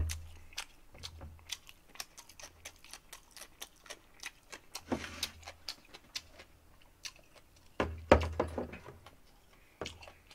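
Close chewing of kimbap, with soft, irregular bites and crunchy mouth sounds against a quiet background with a low hum.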